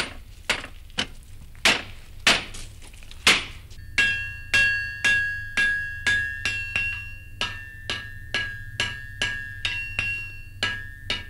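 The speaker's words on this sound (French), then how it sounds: "les villages ne retentiront plus du bruit du marteau sur l'enclume" A blacksmith's hammer striking an anvil in a village forge, a string of sharp metallic clangs, first slower and louder, then a quicker steady rhythm of ringing blows with a sustained metallic tone, with no voices.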